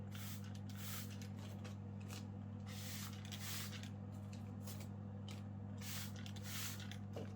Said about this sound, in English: 2 sprays of a mist sprayer.